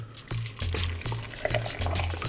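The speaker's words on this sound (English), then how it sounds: "we're just gonna put some water inside of it" Water is poured into a blender already loaded with fruit, a steady splashing fill lasting a couple of seconds. Rhythmic low thumps run underneath the pour.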